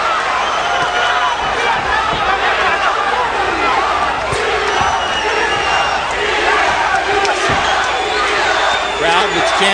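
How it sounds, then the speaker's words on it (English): A boxing arena crowd at the Juan Diaz versus Lakva Sim fight chants Diaz's name in a loud, continuous, rhythmic roar from many voices, with cheers and shouts mixed in. "chanting Diaz, Diaz, Diaz for the baby bull."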